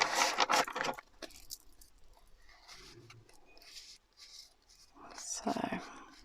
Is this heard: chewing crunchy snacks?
no